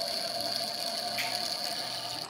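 Wine pours through an aerator in a steady, close, gurgling-hissing stream for a couple of seconds, quiet overall and without talk.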